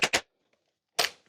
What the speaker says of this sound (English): I'll run it with the gun